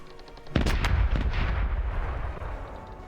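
Ship cannons fire in the naval video game Corsairs Legacy, a loud booming volley of several heavy blasts in quick succession, followed by a long rumbling decay.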